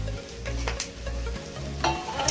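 Eggplant pieces going into a pan of mixed vegetables with cauliflower stalks and leaves, then stirred, giving a low sizzle with scraping spoon knocks and a couple of sharp clinks against the pan.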